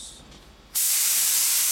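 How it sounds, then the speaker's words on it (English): A faint hiss suddenly bursts into a loud, steady spray of coating onto a metal sheet, a broad rushing sound that continues without a break. "when you are spraying a coating"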